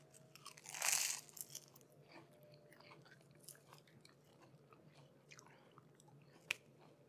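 A crisp, loud crunch as a knife cuts into a crispy baked phyllo apple mini pie, followed by faint crackles and small crumbling sounds.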